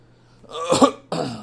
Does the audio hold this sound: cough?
yes